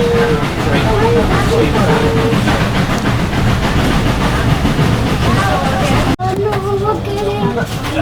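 Steam train running on a railway in Cornwall, a loud steady rumble with clattering wheels and a few short whistle-like tones.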